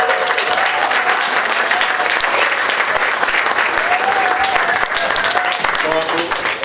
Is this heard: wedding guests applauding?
yes